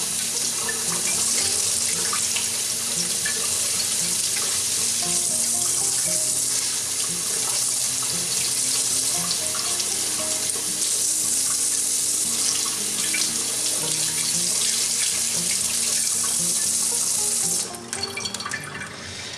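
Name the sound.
water from tap rinsing out Keurig coffee maker parts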